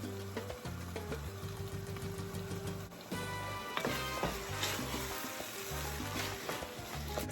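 Chorizo and tomatoes fry in a pan for Mexican cowboy beans, giving a steady, close sizzle and crackle with a faint low hum underneath, and no talking.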